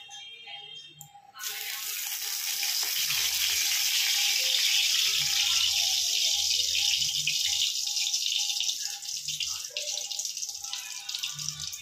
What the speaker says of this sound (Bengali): এবার আমি এক এক করে এই গরম তেলের মধ্যে কিন্তু মাছটা ছাড়বো।